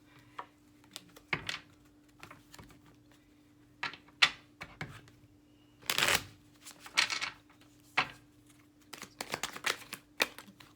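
Tarot cards shuffled by hand at close range: quiet riffles and soft card slaps come in short irregular bursts with brief pauses between them, faint and without talking.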